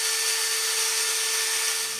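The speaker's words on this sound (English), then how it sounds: "the bore is a little small, so I'm going to have to drill it out" A power drill bores out the undersized, splitting hole of a small plastic gear, giving a steady, close, high-pitched whine with a constant tone that holds for about two seconds, with no voices.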